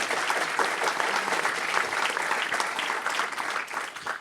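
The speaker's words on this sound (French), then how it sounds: "Je crois qu'on peut applaudir, effectivement." Audience applause at a regional launch evening for a social and solidarity economy strategy, a steady dense wash of clapping from a roomful of people filling the whole stretch without pause.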